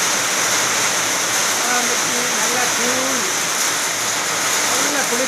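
A steady, loud summer downpour hisses without a break, while a person talks faintly beneath the rain.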